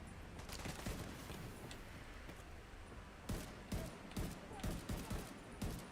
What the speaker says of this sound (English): Frickin' sniper.